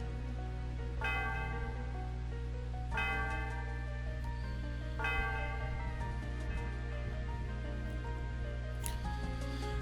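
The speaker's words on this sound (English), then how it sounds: "The sound of the bell reverberates through the area." Celestial Tower bell in the game Pokemon Black rings in struck, reverberant tones, several chimes spaced a couple of seconds apart over a steady low hum, fairly faint and without speech.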